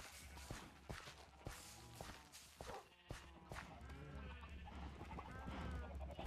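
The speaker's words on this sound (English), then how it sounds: "I do kind of want to breed some sheep." Sheep in the Minecraft video game bleat several times in short calls, with faint footsteps and soft background noise between them.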